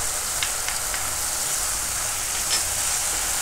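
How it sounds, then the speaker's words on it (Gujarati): Onions frying in a pan for a Gujarati curry of bundi and green onions, just before spices are added, give a steady, close, even sizzle with a few faint scrapes and no talking. "ડુંગળીને આપણે થોડીક વાર પકાવી લીધી સારી રીતે. હવે આપણે આમાં મસાલા નાખીશું"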